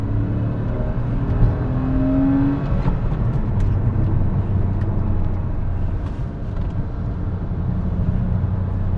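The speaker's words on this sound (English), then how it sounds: "You have a howling flat six that's right behind you." A Porsche 986 Boxster S flat-six engine heard from the cabin with the top down in second gear, a loud continuous engine drone with steady tonal hum and wind noise throughout.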